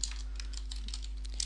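Keys on a computer keyboard clatter in quick, irregular taps as a message is typed, close and fairly quiet over a steady low electrical hum, with no talking.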